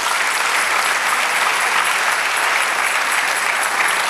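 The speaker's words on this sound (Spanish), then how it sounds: "Dele otro aplauso, Señor" A church congregation applauds during a pastor's sermon, producing loud, even, dense clapping that continues steadily throughout with no voices standing out.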